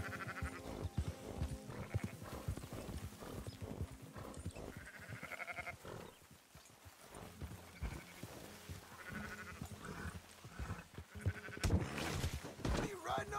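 Sheep bleat a few times amid Red Dead Redemption 2 game sounds and background noise, with people talking over much of it.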